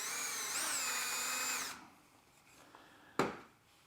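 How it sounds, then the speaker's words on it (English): A power drill boring a 3 mm hole into a melamine cabinet panel, a close high whirring whine for about a second and a half that then stops, followed by a sharp knock. "Drill my hole."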